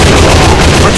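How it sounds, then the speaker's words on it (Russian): Grenade blast in the online shooter AVA, a loud, dense explosion filling the whole brief moment with broadband roar. "Бросаю гранату!"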